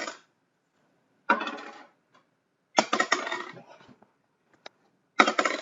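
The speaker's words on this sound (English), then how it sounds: "So I rolled a die 10 times on my coffee table" A die is rolled repeatedly on a wooden coffee table, giving four separate bursts of clattering tumbles and knocks with quiet gaps between them, close and fairly loud, with no voices.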